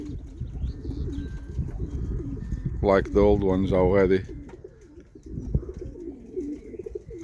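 Young racing pigeons, mostly yearlings, coo in a loft, with a burst of throaty cooing standing out over steady low bird murmur while someone talks nearby.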